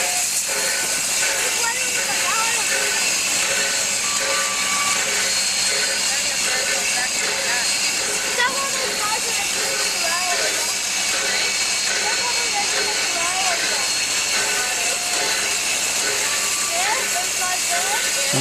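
Steam locomotive 3265 "Hunter" stands at a railway platform, giving off a loud, steady hiss of escaping steam that lasts throughout with little change.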